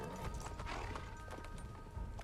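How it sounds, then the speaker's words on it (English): Horse hooves galloping in the video game Assassin's Creed III, a steady clip-clop rhythm at moderate distance under a dense layer of game ambience and background noise. "Who's this guy on the horse?"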